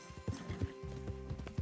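Horse hooves clip-clop in the video game Red Dead Redemption 2, a steady galloping rhythm of thuds at close range under faint game ambience, with a brief whinny-like tone near the end.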